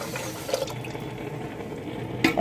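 Half a litre of milk poured into a pot for a rice pudding offering, a steady liquid pour at close range with a brief clink near the end.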